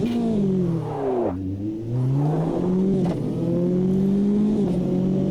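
A GTE race car on soft slick tyres in Automobilista 2, its engine loud and close, droning steadily as it accelerates through gear changes with small dips in pitch, and no speech over it.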